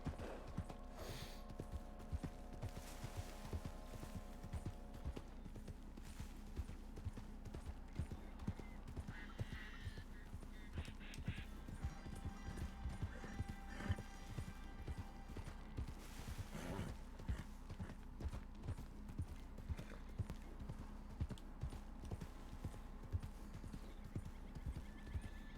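Steady clip-clop of a horse's hooves runs throughout in Red Dead Redemption 2, with occasional whinnies and snorts rising over the rhythmic gait against a low game soundtrack.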